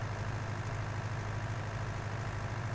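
Tractor in Farming Simulator 2019, a steady low diesel engine drone, close and continuous with no variation over a few seconds.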